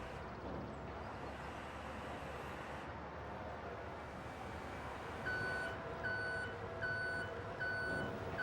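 Repeated electronic reversing beeps from a forklift in the Farming Simulator 25 video game, a steady regular series of tones over a low engine rumble, starting partway in and sounding fairly close.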